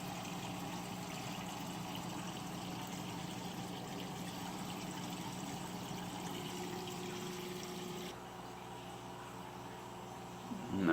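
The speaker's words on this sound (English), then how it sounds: "This is the custom overflow box. I just changed the sponge in it, and then it runs down." Water runs steadily down through a custom aquarium overflow box with a freshly changed sponge, a continuous close trickling rush with pump hum beneath, easing slightly toward the end.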